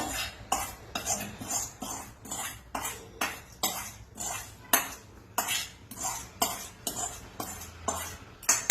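A metal spoon stirs a pot of boiling payasam with cashews and raisins fried in ghee, scraping and clanking against the pot in a steady, regular rhythm of close, distinct strokes.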